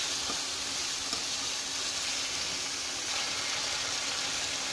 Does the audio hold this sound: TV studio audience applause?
no